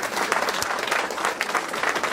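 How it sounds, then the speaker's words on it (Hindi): Sustained applause from a seated audience at a business meeting hall in Bolpur, West Bengal, a dense steady clatter of many hands clapping throughout, fairly close and even in loudness. "इनके लिए भी जबरदस्त क्लैपिंग"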